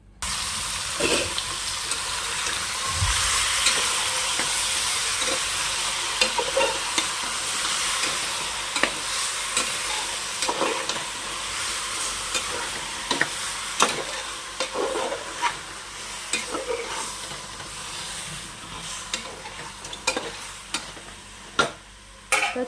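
Marinated chicken masala fries loudly in oil inside a pressure cooker, with a steady broadband sizzle throughout and repeated sharp clicks and scrapes of stirring, no voices.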